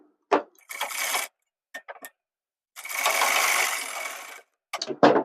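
A sewing machine stitches a gents shirt in two bursts, a short one and a longer steady run, with quiet pauses and small clicks of handling in between.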